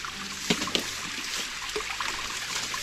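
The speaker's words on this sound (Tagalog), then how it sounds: "At malakas na yung tubig ngayon" Strong water flowing out of a broken, bent pipe, a steady rushing and splashing stream heard alone with a few small splatters.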